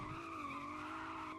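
A lowered, stanced car zooms along in a game set in Southwest Florida, its engine and tires holding a steady, sustained tonal whine with a slight pitch dip, faint and continuous throughout.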